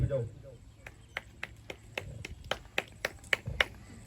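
Scattered sharp claps ring out one at a time in a loose, uneven rhythm from a congregation at a Sunday church meeting, with a voice heard briefly at the start.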